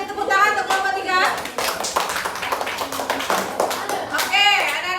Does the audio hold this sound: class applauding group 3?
yes